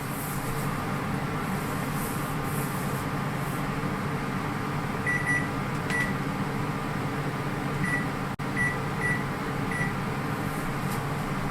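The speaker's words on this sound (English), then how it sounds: "Here comes the timer." A kitchen timer beeps in short clustered bursts of a few quick tones, faint against a steady hum of background noise, while vintage cast iron waffles cook.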